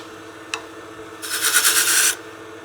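A lathe turning a wooden artifact pot while a tool takes a small peeling cut, heard as a brief tap followed by a loud, close, hissing rasp lasting about a second over the motor hum.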